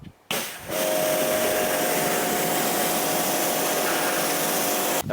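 A pressure washer sprays a steady, loud rinse to wash all-purpose cleaner off a car. It starts in short bursts, then blasts continuously with a hissing roar until it stops abruptly.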